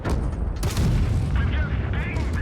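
In the World of Tanks Blitz tank game, a tank shell bounces off armor amid booming gunfire and rumbling explosions, loud and dense, with a voice speaking in the background.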